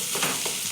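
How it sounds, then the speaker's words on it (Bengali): Brief stirring of food in a village frying pan, a soft scrape or two over a steady hissing sizzle, close by. "ভালো করে নেড়ে নিতে হবে।"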